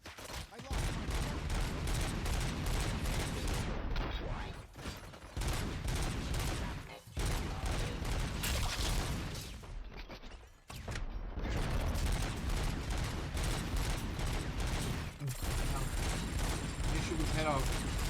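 Rapid bursts of video game gunfire crackle in dense volleys with mechanical clanks, broken by brief pauses across the stretch, while voices talk underneath.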